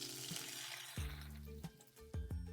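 Chopped large onions hit hot oil in a pan for a dhaba-style mushroom gravy, bursting into a steady crackling sizzle with a few sharp pops and clinks, close and fairly quiet.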